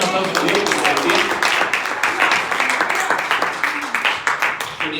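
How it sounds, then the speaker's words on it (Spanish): A church congregation applauds together, a continuous dense clatter of many hands clapping at close range for several seconds, with voices calling out over it. "Dale un aplauso a Dios."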